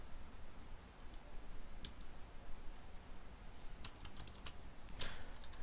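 Typing on a computer keyboard during 3D ground and texture modelling work: faint scattered key clicks over a low background hum, growing into a denser run of taps toward the end, with no talking.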